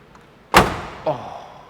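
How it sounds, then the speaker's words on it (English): A heavy Hurst/Olds car door slams shut with a solid thud, followed by a softer second clunk a half second later. "has anybody ever heard this door shut?"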